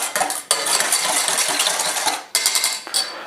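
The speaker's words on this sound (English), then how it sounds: "we're gonna whisk it just to get it all together" A whisk beats sugar into a donut dough mixture in a bowl, rattling in quick continuous scrapes and clinks, broken by two brief pauses.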